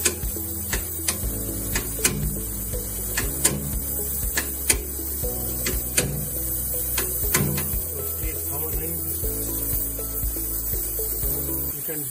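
An Electroweld pneumatic rod butt welder hums steadily while annealing a welded steel rod, with repeated clicking and ticking and a faint hiss over a low electrical drone, and no talking.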